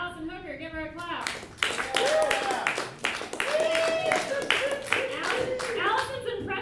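A live studio audience on a comedy competition show claps to vote for a contestant: sustained, fairly loud clapping from many people, mixed with a voice talking over it, after a short spoken lead-in.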